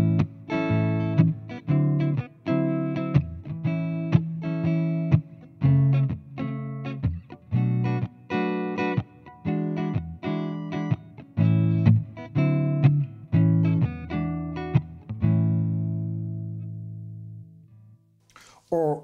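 Godin 5th Avenue Kingpin archtop guitar playing short jazzy chord stabs and phrases through an amp with effects, clear and close, ending on a sustained ringing chord that fades.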